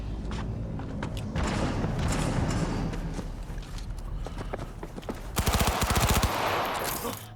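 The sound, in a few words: gunfire in the video game Cyberpunk 2077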